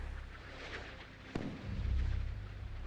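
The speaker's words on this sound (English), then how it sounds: "HMS Invincible has intercepted 2 missiles with her GWS-30" Missile intercept explosions in the naval combat game Sea Power, a HMS Invincible GWS-30 air defence engagement: a sharp blast rises from low rumbling, then a heavier roll of detonation follows.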